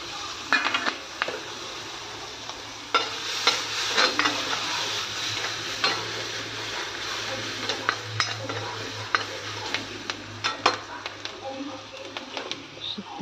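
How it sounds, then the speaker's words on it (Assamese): Onions with coriander powder, red chilli powder and meat masala fry in a pan, a steady sizzle broken by frequent scraping and clinking as the mixture is stirred, with a voice talking over it. "ভাজি পেলাম একেলগে"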